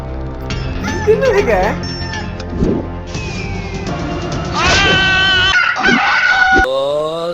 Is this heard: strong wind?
no